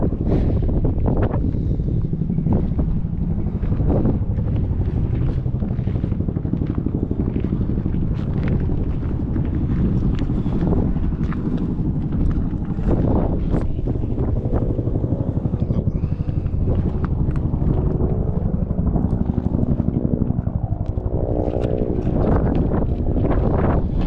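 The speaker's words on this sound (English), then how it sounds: "Chopper coming in." A loud, steady rotor rumble with wind buffeting fills the whole stretch, a helicopter coming in close by in Kenai, Alaska, with voices faintly underneath.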